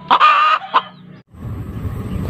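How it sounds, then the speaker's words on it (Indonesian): A laying hen clucks close by, a couple of short loud throaty clucks, followed by quieter rustling farm background. "Ada ayam petelur."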